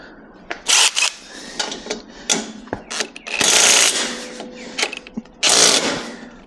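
Bumper bolts being loosened on a Ford Bronco with a ratcheting hand tool, several short bursts of clicking and mechanical whirring separated by brief pauses, close and fairly loud.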